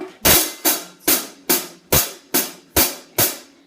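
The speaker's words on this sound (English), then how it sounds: "start hitting the hi-hat cymbal with your right-handed stick on every single note" A drumstick strikes a hi-hat cymbal eight times in a steady, even rhythm, each crisp, bright hit ringing briefly before the next, close and alone.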